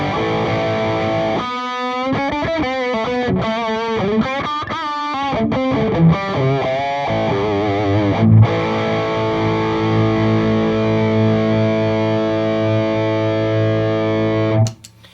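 Electric guitar run through a Tumnus overdrive pedal stacked into a Dracaris distortion with its gain near one o'clock, playing heavily driven, saturated chords and sustained notes, loud and continuous, cut off abruptly at the end.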